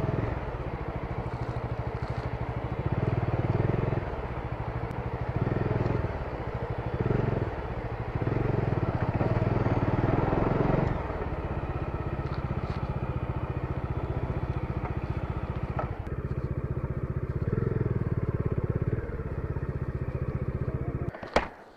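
Motorcycles ride out along a mountain road between Dharchula and Munsyari, a steady engine rumble with clattering and thumps over rough ground, swelling and easing in several passes before a sharp knock near the end.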